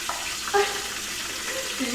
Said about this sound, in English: Once I get mine frying, I will go in my chicken nuggets.